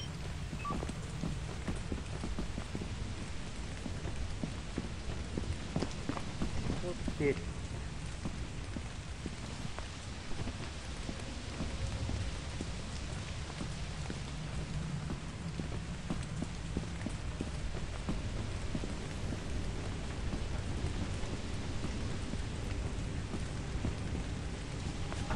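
Steady rain patters continuously in the video game Lethal Company, with low rumbling thunder underneath, occasional soft knocks and no voices.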